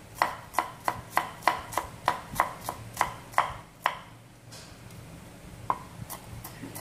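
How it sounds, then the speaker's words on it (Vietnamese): A knife mincing fragrant scallions chops on a cutting board in a quick, even run of about a dozen crisp, close knocks, then pauses before one last chop. "Cái phần hành thơm các bạn sẽ băm ra cho mình."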